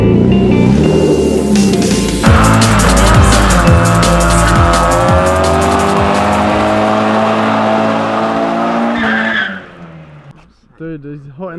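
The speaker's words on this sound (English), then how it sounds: "You just did mad skids, mad loud." BMW E36 drift car skidding with tires squealing loudly and engine roaring, a sustained harsh screech over heavy revving for most of the clip, then fading as voices talk near the end; music plays underneath.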